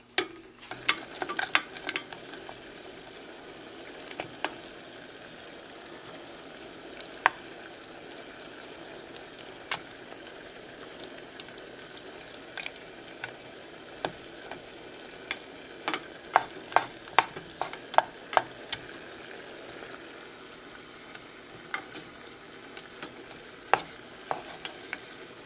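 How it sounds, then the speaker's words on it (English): Chocolate bits being stirred as they melt, a soft continuous hiss broken by scattered light scrapes and taps of a utensil against the pot, fairly faint and with no talking. "And stir that all around and let it melt."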